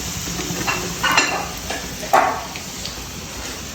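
Food frying in hot oil until crisp and brown, a steady close sizzle with a few clinks and scrapes of a utensil stirring in the pan, no talking.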